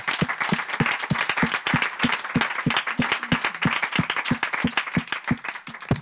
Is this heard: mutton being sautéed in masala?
no